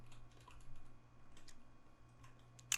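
Quiet typing on a computer keyboard, a soft irregular run of key clicks with a faint steady hum beneath and a sharper tap at the end.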